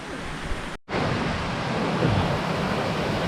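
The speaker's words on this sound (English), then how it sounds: "Waterfall." A waterfall at Hanging Lake, Colorado, gives a loud, continuous broadband roar that cuts out briefly near the start, then resumes steady and unbroken.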